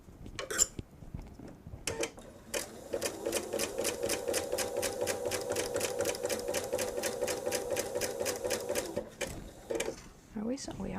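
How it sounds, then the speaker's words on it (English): Sewing machine stitching a jellyroll quilt, running in one steady rapid burst for several seconds between brief stops and handling noises, close and clear. "We are sewing."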